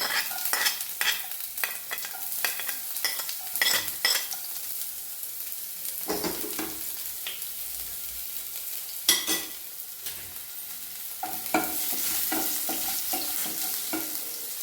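Chopped garlic and ginger frying in oil after mustard seeds: a soft continuous sizzle broken by repeated stirring scrapes and occasional pops, close and moderately quiet, with no talking.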